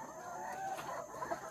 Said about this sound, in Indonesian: ingin melihat ayam petelur.